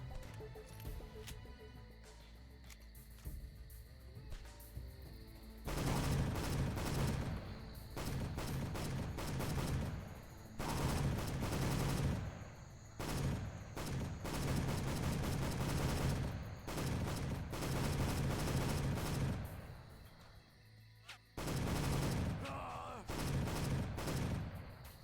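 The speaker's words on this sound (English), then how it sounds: "Firing blanks over here." Bursts of gunfire from the video game Soldier of Fortune: Payback, dense rapid volleys in several loud stretches separated by brief quieter gaps, heard alone.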